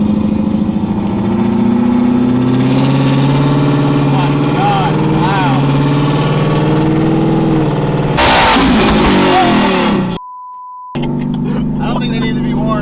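A supercharged Gen 3 Coyote 5.0 V8 in a Ford F-150 with a Whipple blower runs loud and close, a deep, steady engine drone with rising revs and bursts of throttle, and people talking nearby.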